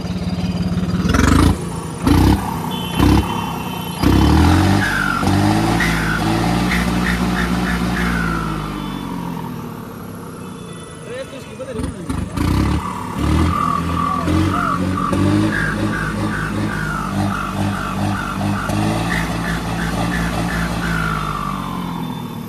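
A Swaraj tractor engine, recently fitted with a pump modification, revs up loudly and close. It gives a deep, throbbing drone with repeated surges and a brief dip midway, and no talking is heard.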